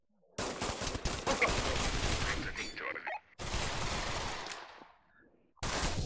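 Gunfire in the VR shooter Pavlov VR: dense bursts of loud, rapid automatic fire in two long sustained volleys, with a short break between them and a third burst starting at the end.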